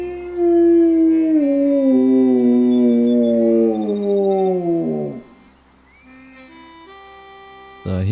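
A wolf in the Roblox game Ecos: La Brea lets out a long, loud howl that slowly falls in pitch and fades out after about five seconds, followed by quieter game sounds and a sharp noise at the end.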